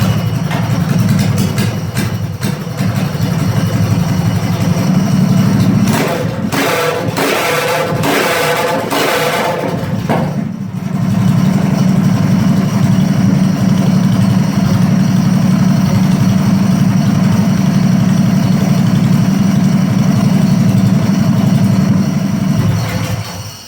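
A Predator 212 small engine fitted with an NR Racing Stage 2 kit runs steadily and loudly, with a brief sputtering, uneven patch midway before it settles back into a continuous idle-like drone.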